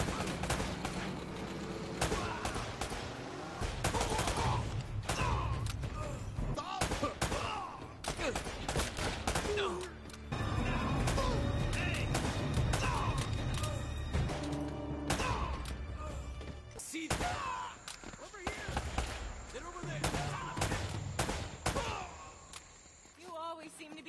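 Sustained shooting in the video game Uncharted: Drake's Fortune, dense overlapping gunfire and impacts over a busy mix of game sound and music, with a voice speaking at times throughout.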